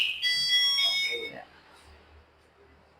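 An e-bike's anti-theft alarm gives a short, shrill electronic tone that cuts off after about a second, followed by a brief spoken word and quiet background.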